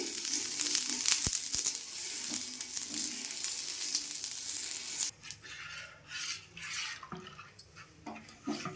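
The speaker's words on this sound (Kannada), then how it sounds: "ದೋಸೆ ಹೆಂಚನ್ನ ಕಾಯೋದಕ್ಕೆ ಇಟ್ಕೊಂಡು ಅದಕ್ಕೆ ಸ್ವಲ್ಪ ಎಣ್ಣೆಯನ್ನು ಸವರ್ತಾ ಇದ್ದೀನಿ" Oil sizzles on a heated dosa pan as it is spread across the surface, a steady crackling hiss that changes texture midway, with no talk.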